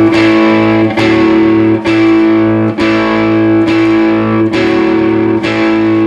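Electric guitar with effects and distortion plays a riff twice through, loud and steady, each phrase marked by a strong strummed attack with sustained ringing chords between.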